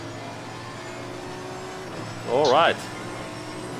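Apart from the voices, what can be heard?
V12 race car engine in video game Assetto Corsa Competizione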